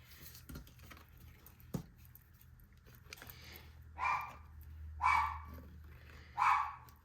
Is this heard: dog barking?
yes